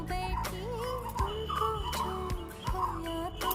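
Birds perched in a tree beside a terrace garden feeding spot give repeated warbling, clucking calls, several overlapping and fairly close.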